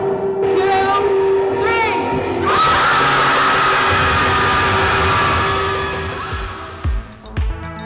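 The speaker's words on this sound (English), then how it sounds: "feel free to let out a breath, a yell, a word, anything you would like" A crowd at a youth club event lets out a collective yell at once, a loud sustained mix of shouts, whoops and cheers that slowly fades, with a few scattered voices near the end.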